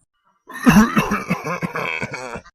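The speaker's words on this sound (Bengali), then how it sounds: "বাবার কাশিটা দিন দিন বাড়ছে আবার" A person coughs several times in a rough, hacking fit, close and fairly loud, with no speech.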